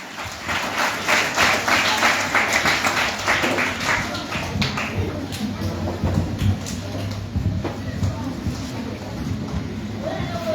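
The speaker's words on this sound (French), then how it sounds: "avec vos applaudissements s'il vous plaît" Audience applause welcomes guests at a novel book-signing event, a continuous spread of many hands clapping with some sharp individual claps, steady throughout, with a low background hum and murmur beneath.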